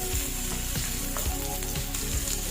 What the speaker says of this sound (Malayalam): നമ്മൾ പൊടിയായിട്ട് അരിഞ്ഞു വെച്ചിരിക്കുന്ന ഉള്ളി, പച്ചമുളക്, കരിയാപ്പില, ഇത്ര സാധനങ്ങൾ വെക്കുന്ന വഴറ്റും.